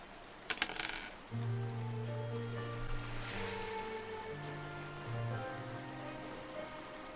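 Rain falls in the Windward strategy game as a steady soft hiss with a few brief chiming tones and low sustained musical notes underneath.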